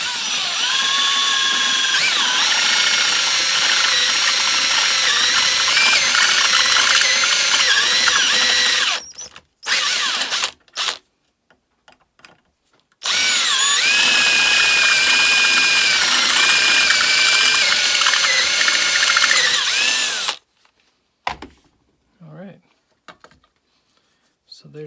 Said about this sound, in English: I'm just going to start at the top and let the drill and the bit do the work.